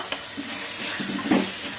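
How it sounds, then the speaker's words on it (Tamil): Chilli powder is stirred into mushroom gravy in a clay pot, giving a steady close sizzle with soft scraping strokes throughout the short stretch. "நல்லா கலருங்க. சிம்மில் வச்சு கலருங்க."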